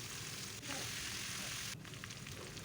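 Vegetables sizzle steadily in hot oil in a kadai seasoned with cumin, a loud continuous frying hiss with faint stirring, no voices.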